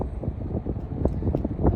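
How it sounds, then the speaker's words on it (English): Wind buffeting a microphone in a small plane flying over ball fields at sunset, gusting in uneven low rumbles and thumps throughout. "It's so windy."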